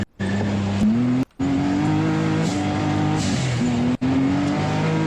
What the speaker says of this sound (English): You can hear when he gets off the gas that blow-off valve kind of purging the charged boost there.